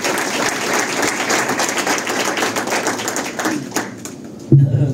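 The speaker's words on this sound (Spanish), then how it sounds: "Un fuerte aplauso para el doctor Domingo de los Santos." Audience applause at an evening event on the philosophy of Dr. Domingo de los Santos, dense clapping that thins toward the end, followed by a voice starting to speak.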